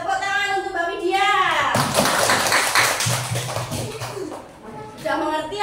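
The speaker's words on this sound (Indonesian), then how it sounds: "Tepuk tangan untuk Mbak Widya." Children in a second-grade maths classroom burst into a short round of clapping for a classmate, framed by an adult teacher's voice speaking before and after the applause.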